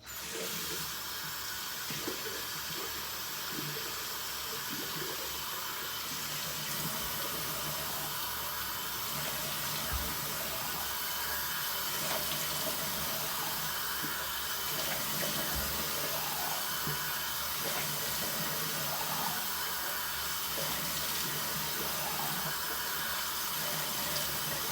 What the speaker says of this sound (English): splash some water on my face